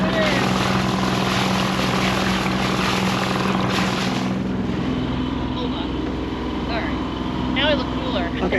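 A sailboat's repaired engine runs steadily during a sea trial, a loud continuous mechanical drone and throb that eases slightly partway through, with a voice speaking over it and some wind and water noise.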